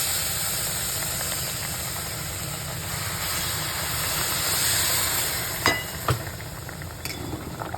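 Hot water poured into a frying peanut mixture in a pan gives a steady, loud hiss and steam rush throughout, with a couple of sharp clanks near the end.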